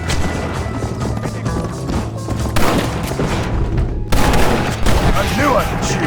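Gunfire in the video game Red Dead Redemption, a dense shootout with repeated shots and booms layered over music and background ambience, with a brief drop before the firing resumes.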